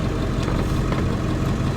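A 7.3 diesel pickup truck engine, tuned as a 65 horsepower daily driver, idles outdoors with a steady, loud, unbroken low rumble and no talking over it.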